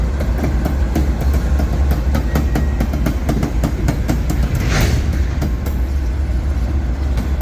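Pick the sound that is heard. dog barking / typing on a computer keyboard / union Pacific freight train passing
union Pacific freight train passing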